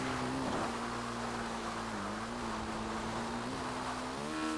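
A modded Triumph Tiger 800 XCX motorcycle in GTA V, its engine holding a steady drone with slight pitch wobbles and a rise near the end, loud and continuous over wind-like noise.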